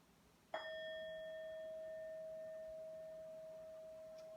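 A single meditation bell struck once in a yoga studio, a clear ding that rings on as a long, steady tone, slowly fading over several seconds and heard alone.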